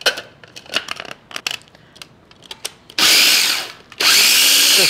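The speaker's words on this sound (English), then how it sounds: "You can again just coarsely cut these up and put these into the processor." A food processor chops coarsely cut mint leaves with salt and pepper. A few light taps and clicks are followed by two loud, close bursts of whirring blades, each lasting about a second.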